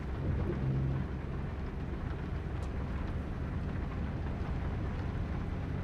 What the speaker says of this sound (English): Hey, look at the rain.